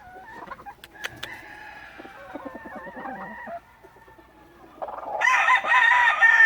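A gamefowl rooster crows loudly and nearby in breeding season, a long ragged crow followed by clucking, then a second strong crow rising toward the end.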